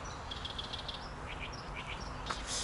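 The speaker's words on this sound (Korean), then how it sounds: "새들은 왜 저렇게 쉬지 않고 계속" Small birds chirp and tweet outdoors in a steady run of short, bright calls, fairly faint and spread across the clip, with no talking.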